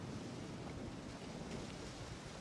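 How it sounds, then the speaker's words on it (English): Steady rain falling on a dark night in the video game Witcher 3: Hearts of Stone, a dense, even hiss that stays quiet and unbroken throughout with no voices. "This is a great time to come when it's, like, raining and dark."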